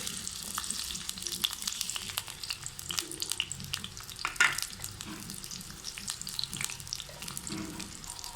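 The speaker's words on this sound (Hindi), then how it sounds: "प्याज़ों को जब तक हम फ्राई करते हैं, थोड़ी देर के लिए इनको फ्राई करना है।" Onions fry in cooking oil in a kadai with a continuous close sizzle and bubbling hiss, scattered pops and a brief louder crackle midway, without any talking.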